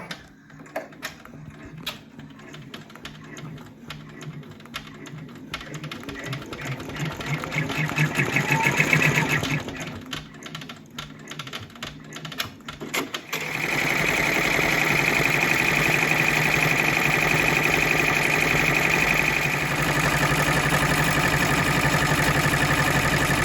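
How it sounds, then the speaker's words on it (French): An embroidery machine stitches an appliqué on a hooped frame, a fast steady mechanical rattle that runs continuously, growing louder partway through and holding a constant loud hum to the end. "J'ai remis le cadre à la machine, il ne reste plus qu'à finir la broderie."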